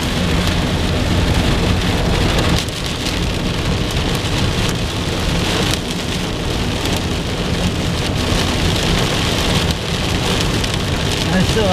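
Heavy rain pours down steadily through a thunderstorm, a dense, loud, unbroken hiss with low rumbling beneath it and a few louder swells, no voices.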